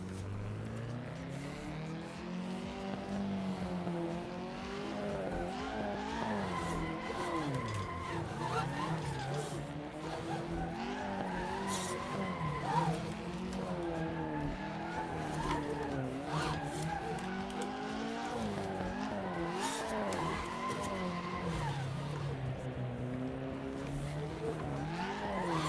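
Drift car sliding through practice laps under light, steady throttle, engine droning continuously with wavering pitch and tires skidding throughout, fairly loud and close with no break.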